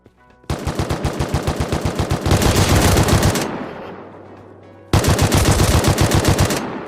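AK rifle fire in the game Rust: a rapid burst of loud automatic shots, a pause with a decaying tail, then another fast burst, close and alone.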